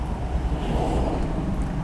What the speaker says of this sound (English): It's now getting windy